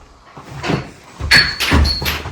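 A door closes in a supposedly haunted house, giving a couple of sharp knocks and thuds followed by a bright metallic clatter, close and loud, with faint voices around it.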